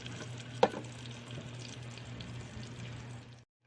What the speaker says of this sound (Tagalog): So Gigisahin lang natin to hanggang sa maging mag golden brown.